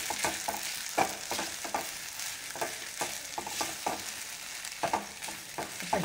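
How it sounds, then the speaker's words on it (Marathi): Ambadi greens cooked with onion are stirred in hot oil, giving steady frying hiss and repeated sharp scraping clicks from a spoon against the pan, close and alone without talk. "फक्त एक मिनिटभर आपण व्यवस्थित मिक्स करून घेणार आहे तेलात कांदा वगैरे सगळं।"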